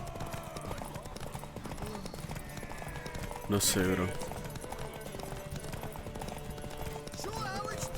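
Rhythmic clip-clop of a horse's hooves in The Witcher 3 runs beneath people talking, with a sudden loud burst of game noise partway through.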